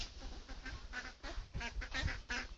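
Several ducks quack repeatedly in short, irregular bursts, fairly faint and a little distant, with a soft rumble underneath.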